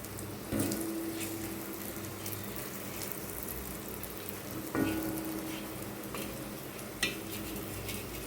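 Pre-boiled taro root (seppankizhangu) fries on a tava with a soft, continuous sizzle, broken by a few sharp clanks of a stirring utensil.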